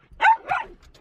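Two sharp barks from a dog, one right after the other, loud and close with nothing else around them, as one of three dirty dogs waits for a bath.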